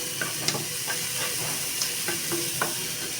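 Garlic and carrots fry in a pan with a steady, close sizzle, broken by scattered clicks and scrapes from stirring, and no talking.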